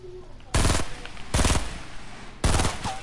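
Three short bursts of rapid automatic gunfire in a video game, loud and close, each about a quarter second long, with quieter ambience in the gaps between them.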